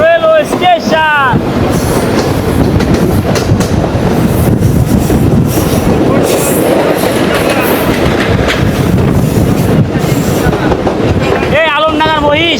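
Mahananda Mail passenger train running into Alamdanga railway station, a loud continuous rumble and clatter of wheels on rails throughout, with a horn-like harmonic tone at the start and again near the end.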